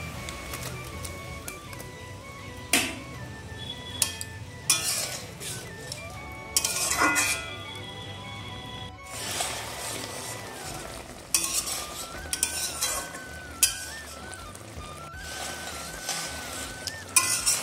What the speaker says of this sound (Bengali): এবারে আগে থেকে ভেজে রাখা বেগুনটা আমি ঝোলের মধ্যে দিয়ে দেবো।